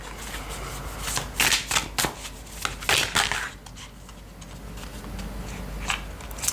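Tarot cards being shuffled by hand, close and fairly quiet, in several quick riffling bursts of crisp papery flicks separated by short pauses.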